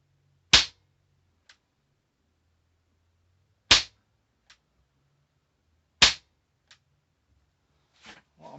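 A CO2 air rifle fires pellets over a chronograph: three sharp, loud cracks spaced a few seconds apart, each followed by a faint tick, against a quiet background.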